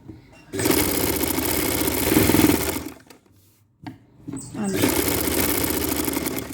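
Sewing machine stitching an umbrella-style sleeve, running loud and steady in two long bursts with a brief pause between, the motor whirring close up.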